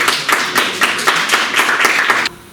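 Audience applause for a contestant at a school public speaking contest, a short burst of loud, close clapping in a rhythmic pattern that cuts off abruptly near the end.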